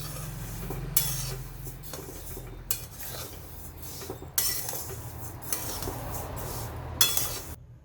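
A spoon mixing roasted sesame, ajwain and flax seeds in a bowl, giving repeated close clinks and scrapes against the rim in uneven bursts over a soft rustle of seeds.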